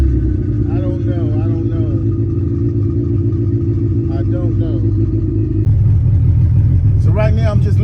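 A turbocharged Honda Civic engine idles steadily while warming up, a continuous low rumble with a slight shift in tone partway through. Faint voices are audible in the background.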